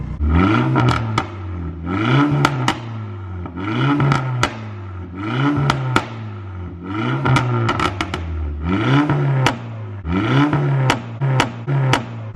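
A warmed-up VW GTI MK6 with a catless downpipe and flash tune revs hard in repeated blips, about eight rising and falling pulls close by, each ending in sharp crackles and pops.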